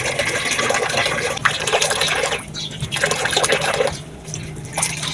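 Tap water runs and splashes steadily while someone washes their face, with slight changes in the flow and occasional splashes.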